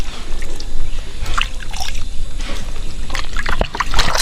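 Water poured by hand over the head of an Aseel gamecock, heard as loud, close, uneven splashing and trickling in bursts, with no talking over it.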